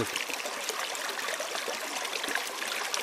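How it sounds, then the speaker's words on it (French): Streams flowing at a river confluence, a steady broadband rush and trickle of water, continuous and close, with no voices. "C'est la rencontre des rivières."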